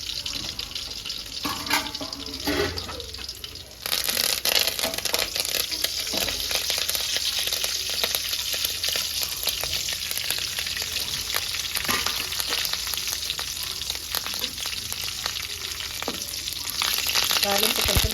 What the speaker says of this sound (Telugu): తాలింపు కొంచెం బాగా ఫ్రై చేసుకోవాలి.